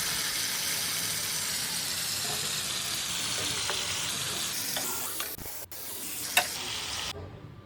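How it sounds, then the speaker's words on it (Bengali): Tomato paste and fried vegetables cook in a pan with a steady, moderately quiet sizzle and bubbling, interrupted near the end by a few clinks and knocks before cutting off. "এবার ওই যে টমেটোর পেস্ট তৈরি করেছিলাম ওটা দিয়ে দিলাম। এটা একটু কষে এলে এর মধ্যে দিয়ে দেব জল।"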